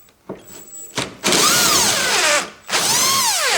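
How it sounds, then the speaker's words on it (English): Electric impact driver with a 10mm socket backing a bolt out of a car's grille area: short taps, then two loud sustained bursts of whirring, hammering rattle with rising and falling pitch, close up. "I have now this electric impact driver and 10mm socket"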